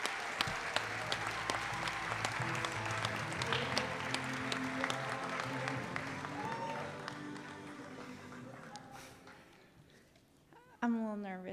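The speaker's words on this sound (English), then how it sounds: "Let's give them a round of applause." An audience at the 2023 Good Food Awards ceremony applauds steadily and loudly over background music, then the clapping tapers off and a voice begins speaking at the close.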